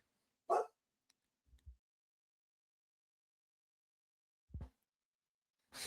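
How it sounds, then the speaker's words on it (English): A dog barks once, sharp and close, in an otherwise quiet room, followed by a few soft low thumps and another short bark-like sound near the end. "So if you heard the bark, Junie, shout out Junie."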